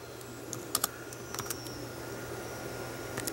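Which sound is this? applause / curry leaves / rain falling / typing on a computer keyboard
typing on a computer keyboard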